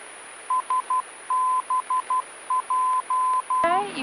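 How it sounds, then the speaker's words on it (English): Morse code identifier from a VOR navigation beacon on 112.9, a steady series of short and long tones clear over faint radio hiss, ending with a brief click and burst of noise. "So we'll listen to the Morse code."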